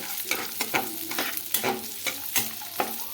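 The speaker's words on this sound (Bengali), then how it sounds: "আর কিশমিশটাকেও দিয়ে দেব সাইডে একই সঙ্গে আমি একটু মিডিয়াম ফ্লেমে রেখে ভেজে নেব" Cashews and raisins frying together in oil over a medium flame for pulao, a close crackling sizzle punctuated by regular stirring scrapes about twice a second, no voices.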